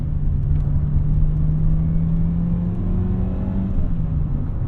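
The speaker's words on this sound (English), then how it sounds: "Engine just purrs." A 1988 Honda Accord LX-i with a five-speed manual hums steadily at a low, even pitch, a smooth continuous drone with no other sounds over it.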